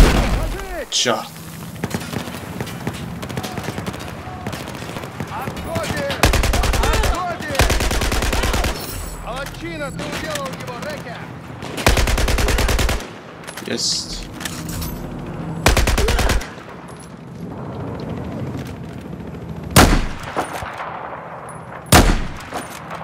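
Gunfire in the video game Battlefield 4 comes as loud, close bursts of automatic fire alternating with single sharp shots and booms, with people talking between the bursts.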